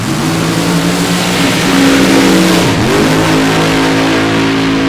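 A funny car accelerating down the drag strip at Cordova Dragway during a Summer Nationals qualifying night, a loud, sustained engine roar with a rising tone and a brief dip partway through, no talking.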